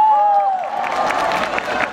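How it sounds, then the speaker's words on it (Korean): Festival crowd applauding and cheering at an outdoor concert stage, a dense wash of claps and shouts filling the air after a brief tonal sound at the start. "다시 한번 큰 박수 부탁드리겠습니다."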